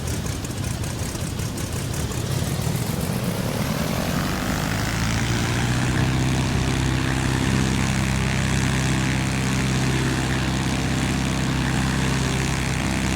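An L-19 Bird Dog propeller airplane drones steadily in flight, its engine note settling from a rougher roar into an even, loud hum heard from inside the cabin, without talk.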